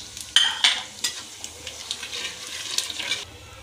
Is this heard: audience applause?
no